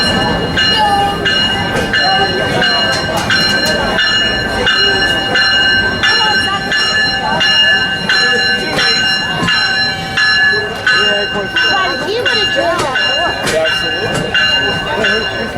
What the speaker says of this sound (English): This is Phil's train.